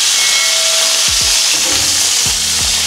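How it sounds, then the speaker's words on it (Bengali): Beef steak frying in a pan, a loud continuous close sizzle and hiss with a few low thumps and pops as the meat shifts. "আমরা স্টেকটাকে এভাবে ভেজে নেব।"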